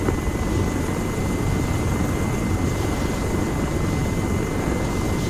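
A Little Bird helicopter in the video game DayZ, flying without its tail rotor, gives a continuous, steady rotor and engine drone, loud and unbroken throughout.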